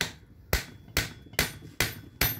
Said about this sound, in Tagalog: So, pag pinupukpok mo siya, dandan lang.